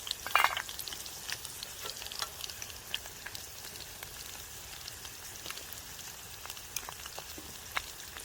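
Steak fries in a pan at a winter camp in the woods, giving a soft, steady crackle and sizzle with scattered pops, quiet and close, with no talking.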